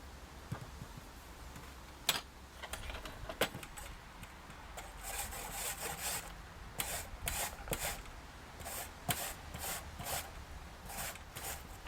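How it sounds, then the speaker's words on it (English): Beetroot or summer squash is grated for chutney, giving repeated scraping rasps on a kitchen grater in quick bursts, fairly quiet and close, with no talk. "the next 3 are going to be grated"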